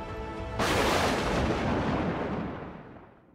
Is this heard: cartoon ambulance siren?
no